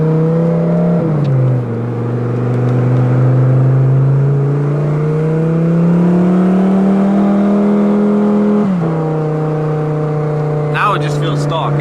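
An Audi R8 cruises on the highway, its engine holding a smooth steady drone that dips and rises slightly with gear or speed changes, close and loud inside the cabin, with a brief rattle near the end.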